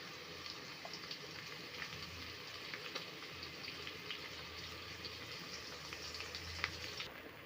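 Ginger garlic paste frying with browned onions in a pan for biryani, giving a soft, steady sizzling hiss with faint crackles throughout and no voices.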